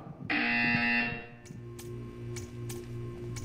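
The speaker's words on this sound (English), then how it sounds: "You will hear a buzzer." A loud, harsh electronic buzzer in the video game Portal 2 blares for about a second, then fades, followed by a few sharp clanks and a low hum.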